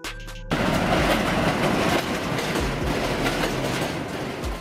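A Philadelphia-area subway train runs with a steady, loud rumble and clickety-clack of wheels over rail joints, starting abruptly after a brief quiet moment and continuing without letup.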